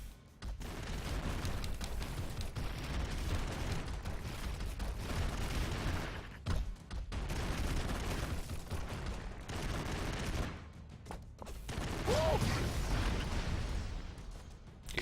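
Continuous barrage of explosions and gunfire in the run-and-gun game Broforce, loud and dense throughout with brief gaps, booming blasts overlapping rapid shots.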